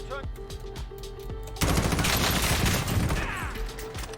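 Rapid automatic gunfire from a video game shootout crashes in loudly mid-clip after quieter game sounds and stray shots, sustaining a dense burst before tapering off.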